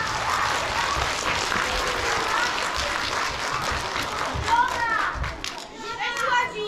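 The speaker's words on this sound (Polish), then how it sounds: "Oklaski proszę." Applause from an audience of children at a centenary event for Urania, a steady wash of clapping mixed with children's chatter and voices, loud and continuous throughout.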